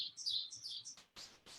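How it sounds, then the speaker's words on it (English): Small birds chirping in a yard, a run of high, bright tweets and trills at moderate distance, with a few sharper calls near the end and no talking. "You hear a lot of birds?"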